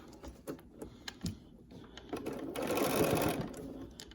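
A domestic sewing machine stitches fabric on a beginner scrunchie wristlet keychain project, with a few short bursts of stitching followed by a longer, louder continuous run close by, and no talk.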